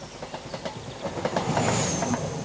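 A train passing close by on a railway line, with steady rumbling, repeated clickety-clack of wheels over rail joints and a rising hiss of slipstream as the carriages rush past, loud and continuous.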